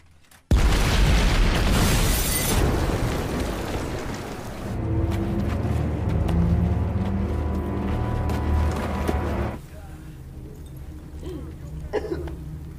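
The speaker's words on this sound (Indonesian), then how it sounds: "ledakan hebat tiba-tiba terjadi" A sudden, violent explosion in a crime thriller about a cartel bursts out at full loudness, then a long rumbling roar and debris settle under dramatic film music before fading to a lower rumble.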